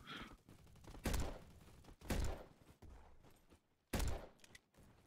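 Gunshots from the Roblox game Bad Business: four loud, sharp shots at roughly one-second intervals, each with a short booming tail, over a low game background.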